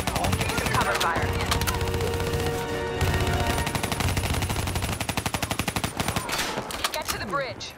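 Dense automatic gunfire in Call of Duty: Vanguard, loud and close, with rapid machine-gun bursts running almost nonstop and sharper single shots cutting through.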